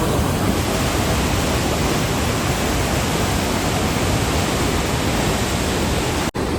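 Water crashes at the Surya Kund waterfall on the Ganges near Gangotri, a loud, dense, unbroken roar filling the whole stretch.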